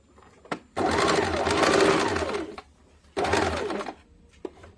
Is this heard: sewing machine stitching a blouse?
yes